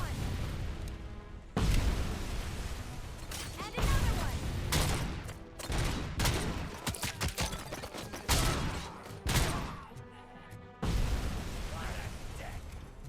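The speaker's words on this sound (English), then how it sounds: "Grenades." Grenade blasts and gunfire in the video game RoboCop: Rogue City, dense loud bursts of booming explosions and rapid shots rolling one after another for the whole stretch, with a voice talking over parts of it.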